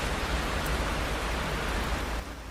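Heavy rain pours down in a dense, steady hiss that stays loud and even from start to finish, dropping slightly just before the end, with no voices over it.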